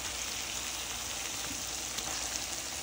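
Goat meat fries in a pan with a dense, constant sizzle that stays even and fairly close throughout the short stretch.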